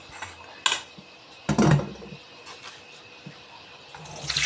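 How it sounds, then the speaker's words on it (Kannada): Soaked bamboo shoots in a pot as the water is changed: water pours and sloshes, with clanks and clatters from the vessel in a few brief bursts, up close and with no talking. "ಇವಾಗ ನೀರು ಚೇಂಜ್ ಮಾಡುವ"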